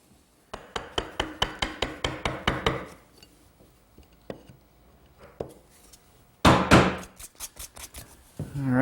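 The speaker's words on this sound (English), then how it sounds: "Now using this corner chisel as well as a regular chisel," A corner chisel and a regular chisel square up a through mortise hole in wood: a series of sharp, evenly spaced close strikes and paring cuts, then a pause and a second loud run of taps.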